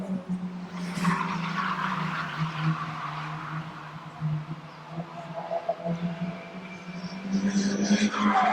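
Stock cars race around a track, engines droning steadily in the distance with tires squealing through corners and a louder rising whine near the end, with no voices.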